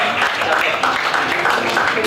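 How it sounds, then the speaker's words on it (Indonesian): An audience at a church youth service claps together in steady, dense applause that fills the room, with voices mixed into the clapping throughout. "Berikan tepuk tangan dulu teman-teman."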